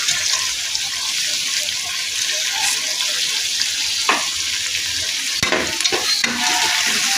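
Thinly sliced medium onions and cashews frying in hot oil, a dense continuous sizzle close up, with a few stirring knocks and scrapes toward the end and no talking.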